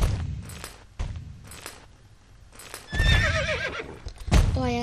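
Horse neighing and whinnying with hoof clip-clop while riding in the video game Star Stable, loud whinnies near the end over steady game ambience.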